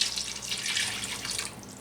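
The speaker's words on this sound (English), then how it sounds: "I'm going to take some more filtered water" Filtered water poured into a cooking pot while making American goulash, a short steady splashing rush of water, close and fairly loud, with no talking.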